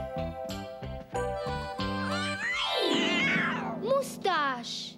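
A cartoon house cat named Moustache gives a drawn-out, rising and falling meow midway through, sounding close and clear over soft background music, with brief voices before it.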